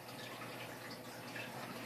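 Water trickles steadily out of an aquarium hang-on-back filter that is switched off, a faint, continuous splashing hiss with no voices.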